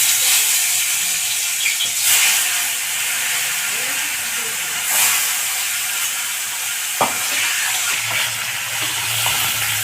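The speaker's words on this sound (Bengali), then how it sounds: "মাছগুলোকে তেলে মধ্যে ছেড়ে দেবো" Sarpunti fish dropped into hot oil, giving a steady broadband sizzle and hiss that holds for about ten seconds with small pops and stirring bumps, close and fairly loud.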